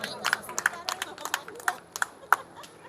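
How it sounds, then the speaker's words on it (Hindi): Audience applause at a retirement ceremony for a postmaster in Delhi, sharp scattered claps in an uneven rhythm, moderately close, with crowd murmur underneath. "जमुना पार तक आवाज जानी चाहिए तालियों की"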